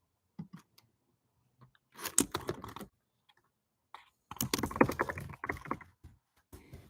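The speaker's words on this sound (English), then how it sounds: "If you hear clickety clack, it's because I'm typing away." Computer keyboard typing in a quiet room, uneven clusters of quick clattering keystrokes in short bursts separated by pauses, close and fairly soft.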